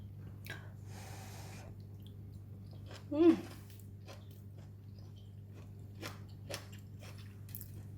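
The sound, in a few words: chewing crunchy vegetable fried rice with kailan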